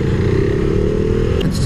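A Benelli motorcycle engine runs with a steady, loud, close throb on a mountain ride, a brief scrape near the end.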